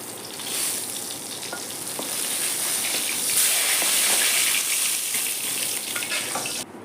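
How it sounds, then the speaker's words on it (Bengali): Oil sizzles and crackles steadily as katla fish fries, a loud continuous hiss with scattered pops and spatters, no voices. "লাল লাল করে ভাজছি মাছটা"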